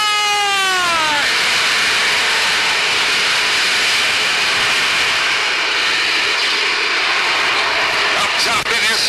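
Race car engines at a Super National race start roar loudly together in a sustained, dense wall of engine noise. A pitch sweeps down at the opening as one car passes, and a commentator talks over the roar.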